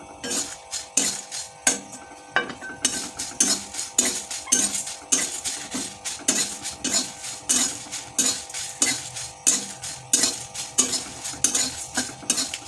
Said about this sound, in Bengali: কড়াই গরম হয়ে গেছে আমি এগুলো এবার একটু ড্রাই রোস্ট করে নেবো